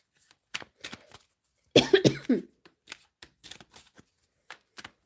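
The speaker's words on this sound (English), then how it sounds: "and then I coughed" A single harsh cough near the microphone, set among sparse faint clicks and rustles in an otherwise quiet space.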